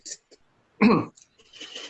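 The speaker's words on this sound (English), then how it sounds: "Trying to clear my throat real quick." A person clears their throat once with a short, rough rasp, followed by a few quiet breaths.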